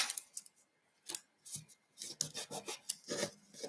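Paper is cut with an Everyday Arches die from Stampin' Up!, giving a close, quiet run of short rasping snips and rubbing scrapes in irregular bursts, without any talking.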